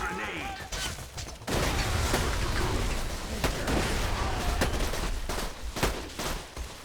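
Continuous automatic gunfire sprays at enemies in Borderlands 2, loud and dense for several seconds, with heavier booming impacts mixed in and individual shots standing out toward the end.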